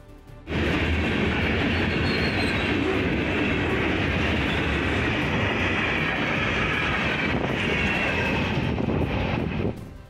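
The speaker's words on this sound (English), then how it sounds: "This train can reach speeds of over 300 kilometers per hour" A high-speed train capable of over 300 km/h roars past at close range, a loud sustained rush of wheels and wind that swells in abruptly and holds steady before easing off.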